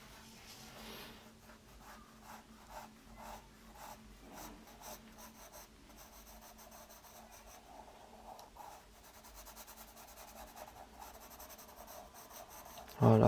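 Pencil shading and line drawing on paper for a T-shirt sketch, a quiet, close scratching of graphite in short repeated strokes and longer rubs, soft and steady, ending in a brief louder bump.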